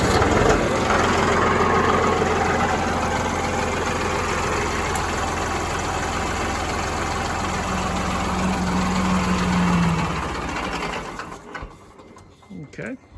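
Mahindra 5545 tractor diesel engine running at a steady, loud idle for about ten seconds before sputtering and shutting off, with a tapering rumble at the end.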